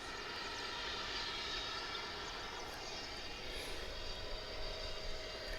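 An American Airlines jet arriving from Maui comes in to land at DFW, its engines a steady, broad roar held at even loudness throughout, with no voices.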